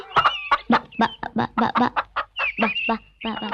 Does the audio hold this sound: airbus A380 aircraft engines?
no